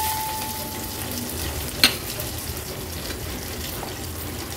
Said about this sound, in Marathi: फोडणी व्यवस्थित मिक्स करून घ्यायचे